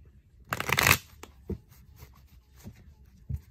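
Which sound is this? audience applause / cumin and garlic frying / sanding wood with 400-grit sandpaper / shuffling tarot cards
shuffling tarot cards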